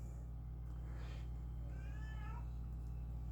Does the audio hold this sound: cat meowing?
yes